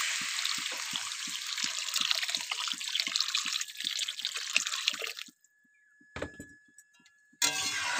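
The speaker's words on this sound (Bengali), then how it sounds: "যতটুকু দরকার ততটুকু জলটা দিয়ে দিলাম।" Hot water poured from a container into a pan of village-style fish curry, a steady close splashing stream for about five seconds, then quiet with a few faint drips and clinks before another short pour.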